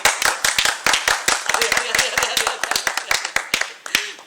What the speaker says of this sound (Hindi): तालियां बजाकर मुझे लज्जित ना करें आप।